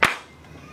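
A single sharp hand clap right at the start, fading quickly into quiet room tone.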